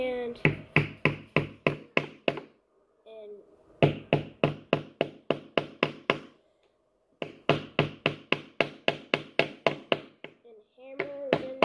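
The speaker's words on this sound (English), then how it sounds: "and hammer the nails into the car." A hammer driving short nails into a handmade toy car: rapid bursts of sharp, close taps in quick regular series, broken by brief pauses, with no talking over them.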